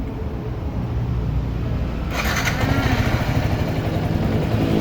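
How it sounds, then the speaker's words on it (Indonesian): A Yamaha Xabre motorcycle with a battery charging problem starts up and settles into a steady, close rumbling idle after a brief quieter moment, loud and continuous with no talking. "kemudian kita nyalakan motor"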